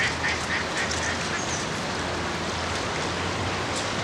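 Several ducks quack intermittently at a moderate distance over a steady wash of rain-like background noise, with no talking.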